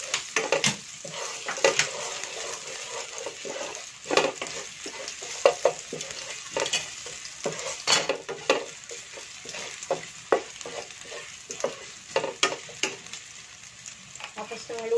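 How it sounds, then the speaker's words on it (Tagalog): Ginger sautéing in oil left over from frying fish for sweet and sour fish, a loud continuous sizzle broken by repeated clatters of a utensil stirring against the pan, with no talking. "magigisa na tayo. Dito na rin sa pinagprituhan natin ng isda."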